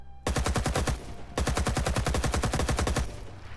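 Sustained automatic rifle fire in Rising Storm 2 Vietnam, two loud rapid bursts of evenly spaced shots separated by a brief pause, close and dense with no voices.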